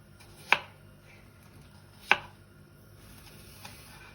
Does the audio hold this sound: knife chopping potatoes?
yes